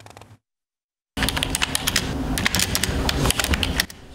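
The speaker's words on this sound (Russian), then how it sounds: "Стук клавиатуры не стихает здесь в течение всего рабочего дня" Continuous close keyboard clatter in a busy news office, dense overlapping keystrokes from several keyboards after a brief silence, steady and fairly loud.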